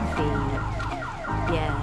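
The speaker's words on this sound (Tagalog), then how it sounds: "Ay, nag-alarm yung kotse ko." Car alarm going off near a job site café, a loud, close, continuous siren-like wail cycling through repeated pitch sweeps.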